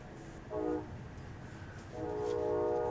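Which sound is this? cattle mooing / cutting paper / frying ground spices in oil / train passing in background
train passing in background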